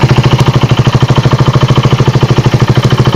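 A BSA 650 Gold Star single-cylinder motorcycle idles just after starting, a loud, even, rapid thumping beat held steady and close throughout.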